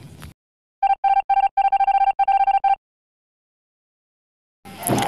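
A telephone is dialed with a rapid series of about a dozen short, clear beeps in uneven groups, then silence, with brief noise at the start and end.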